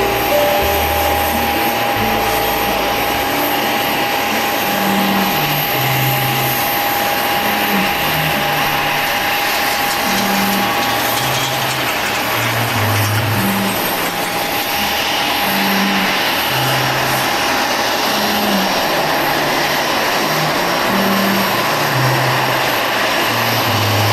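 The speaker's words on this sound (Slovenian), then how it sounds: "Naš avion, ki je pristal, še vozi tlele." A passenger airliner taxis at Madeira airport after landing, its loud, constant engine drone and hum filling the scene, heard from close by inside or near the aircraft.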